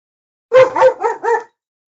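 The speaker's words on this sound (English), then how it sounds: "Good old Dougie dog." A dog gives a short run of about four yips or barks in quick succession, close and fairly loud, then falls silent.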